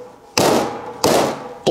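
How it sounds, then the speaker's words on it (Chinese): A cleaver chopping through a beef hoof in a kitchen, three sharp, loud, separate whacks evenly spaced about two-thirds of a second apart, with no talking. "再把蹄子砍开"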